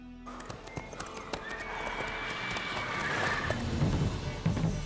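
Roach the horse in The Witcher 3 neighs with a loud whinny over a rapid clip-clop of hooves, with game music and ambient sound building beneath.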